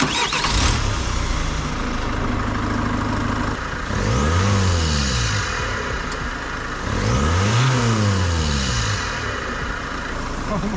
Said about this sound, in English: You can hear the turbo. It's almost like a dump valve when it goes off